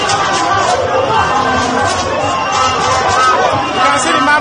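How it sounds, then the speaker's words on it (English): A huge crowd at Peter Obi's rally in Maryland, Lagos, fills the air with dense, loud, continuous chatter and babble, with a nearby voice talking over it. "You can see the mammoth crowd stretching as far back as the eyes can see."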